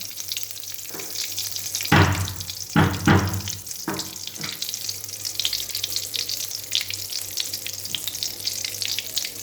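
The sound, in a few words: whole spices sizzling in hot oil for tempering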